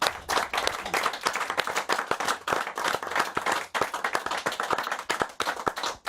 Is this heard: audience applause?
yes